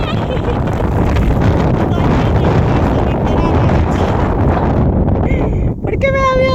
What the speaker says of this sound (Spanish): La brisa era demasiado fuerte, la sal golpeaba súper fuerte y yo sentía que iba a salir volando.